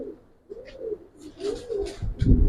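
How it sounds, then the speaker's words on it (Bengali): A Tambalal pigeon coos in several soft, rolling phrases close by, with a few rustling flutters and a louder thump near the end; no one speaks. "এটা তাম্বালাল কবুতর"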